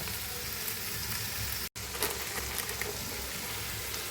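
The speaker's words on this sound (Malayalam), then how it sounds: "ഒരല്പം മഞ്ഞൾപ്പൊടി കുറച്ച് ഉപ്പ് ഇതും കൂടി ചേർത്ത് മുളക്ക് വഴറ്റിയെടുക്കുക" Chili sautéing in a pan with turmeric powder and salt for a rustic Kerala chicken curry, a steady close sizzle with a brief break partway through and occasional light scraping ticks.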